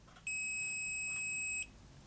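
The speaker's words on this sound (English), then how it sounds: "It goes green and it beeps at you." Kaiweets digital multimeter sounding a steady electronic continuity beep, a single sustained high tone lasting just over a second, clear and alone against quiet background.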